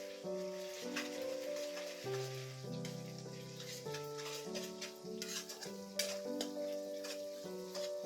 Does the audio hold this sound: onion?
yes